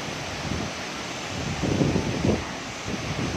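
Savatsada waterfall near Chiplun in Maharashtra during the rainy season, its white water throwing spray, rushes as a steady broadband roar that swells slightly partway through, heard alone with no talking.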